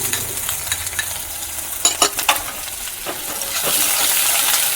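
Chopped onion sizzles in hot oil with a garam masala and dried chilli tempering, a continuous hiss broken by a few sharp spatula clinks and scrapes that grows slightly louder toward the end.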